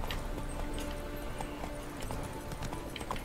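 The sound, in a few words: horse Roach hooves in The Witcher 3 video game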